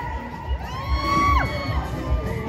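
Crowd at a Fiestas Patrias celebration in Atlanta shouting, whooping and cheering, with several rising and falling yells over a dense, lively hubbub, fairly close and loud.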